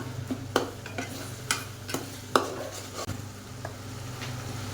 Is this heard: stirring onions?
yes